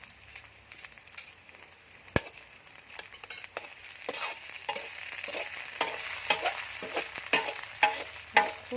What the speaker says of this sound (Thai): คั่วไปเรื่อยๆค่ะโวกเครื่องให้หอมไปเรื่อยๆค่ะ